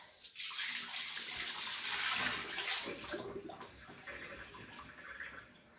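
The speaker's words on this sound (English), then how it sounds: "And then you're going to dump your water out." Water dumped out of a pot with some salt stuck to the bottom, a loud close gushing pour that swells, then tapers off into trickles and drips over several seconds.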